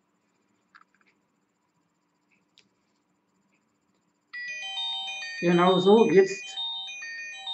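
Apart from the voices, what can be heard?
Omate X smartwatch alarm on losing phone connection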